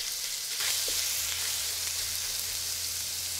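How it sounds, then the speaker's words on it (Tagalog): Garlic sautéing in a frying pan as the first step of fried rice, a steady, close, even sizzle with a low hum underneath and no voices. "Next, maggisa tayo ng bawang dahil magsasangag na tayo."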